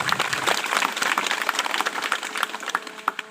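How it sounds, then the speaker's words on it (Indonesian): An audience at a Balinese Hindu Rsi Gana ceremony applauds with a dense, fairly close burst of clapping that thins into scattered claps toward the end. "Tepuk tangan dulu buat saudara-saudara kita yang ada di sini."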